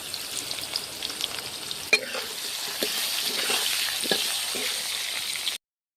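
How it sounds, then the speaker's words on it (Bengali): Potatoes fry in oil with salt and turmeric, a steady soft sizzle with scattered crackles and a few stirring scrapes, close and fairly quiet throughout. "লবণ হলুদ দিয়ে ভালো করে আলু ভেজে নেব।"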